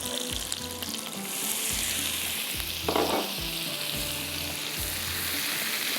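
Flour sizzles and fries steadily in melted butter and a little oil in a pan, with a continuous close crackle and a brief louder burst of hiss midway.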